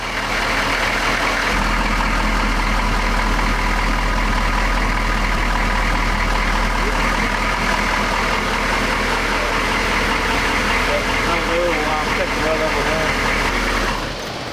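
A US military Humvee engine idling steadily nearby, a continuous low rumble holding even for the whole stretch with no talk over it, cutting off at the very end.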